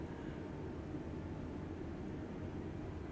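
An Airbus A320 Neo airliner on approach in a flight simulator, with flaps set, gives a steady, constant low engine and airflow drone that continues alone throughout.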